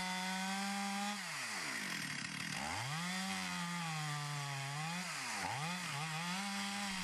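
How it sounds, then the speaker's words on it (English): A Stihl 440 chainsaw runs close and loud, its engine pitch dipping and rising as it bogs down and revs while felling a large tree. "a trusted workhorse, the Stihl Mississippi 440 chainsaw"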